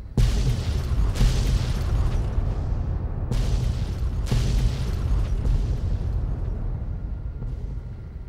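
Missiles exploding across a canyon in Fallout New Vegas, a series of deep booming blasts, several distinct impacts rolling over a constant low rumble, loud and continuous.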